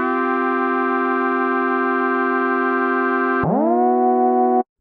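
Sustained synth chords built in the Massive plugin, with unison voices spread across the stereo field, hold steady and loud, then shift to a new chord with a pitch swoop before stopping cleanly; no voices are heard.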